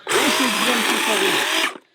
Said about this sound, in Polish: mam tu piłę na podorędziu